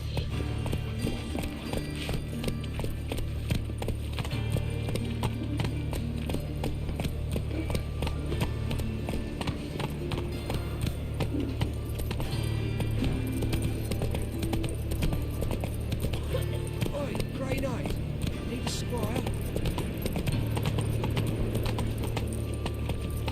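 Roach the horse gallops in The Witcher 3, a steady run of hoof clip-clops over a continuous game soundtrack and ambience, carrying on without a break throughout.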